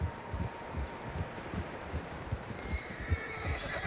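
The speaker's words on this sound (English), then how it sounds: "Horses, quite a few of them." Several horses in the Red Dead Redemption 2 video game, hooves clopping in an uneven steady rhythm with occasional neighs and snorts, moderately close and continuous, no speech.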